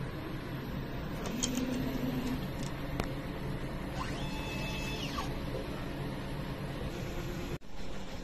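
A DTF printer running a nozzle test after a head clean, giving a steady mechanical hum with faint whirring and brief clicks and a short rising and falling carriage sweep, close and continuous with no talk.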